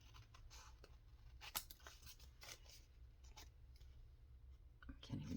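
Scissors snip through paper while an ephemera journal pocket is being made, a few quiet, scattered cuts over a low steady hum.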